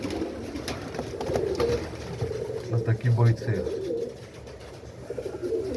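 Pigeons coo in a pigeon loft, soft low rolling calls rising clearly midway through, with someone talking nearby over the birds.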